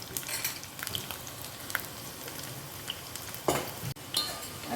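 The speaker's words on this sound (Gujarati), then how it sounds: "આપણે એમાં 10 થી 15 નંગ લસણની મોટી કળી છે જે મેં ચોપ કરીને લીધી છે, અને કકડવા દેશું બરાબર." Chopped garlic, ten to fifteen large cloves, sizzles steadily in hot oil for a drumstick curry, a dense frying hiss with a few scattered clinks and stirring scrapes, close by and without talk.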